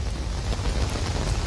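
Heavy monsoon rain pouring down across Delhi streets, a dense, steady broadband wash with low rumbling underneath, continuous and fairly loud throughout with no voices.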